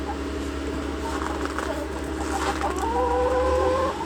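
Backyard hens cluck steadily at close range on a cozy winter morning, with layered calls and a rising crow-like tone near the end, over a constant low hum.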